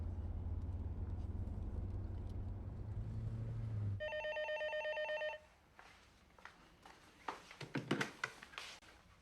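A telephone rings in one burst of electronic trills after a steady low vehicle rumble cuts out, then scattered quieter movement sounds follow.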